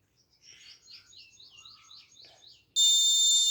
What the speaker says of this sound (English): red LED on, alarm continuously on